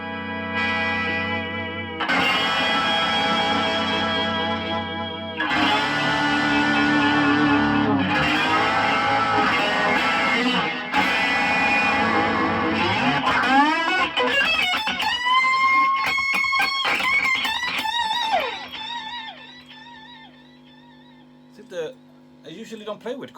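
Electric guitar run through a chorus effect, heard close and loud: dense sustained strummed chords for about thirteen seconds, then brighter picked notes and bends that thin out and ring off near the end.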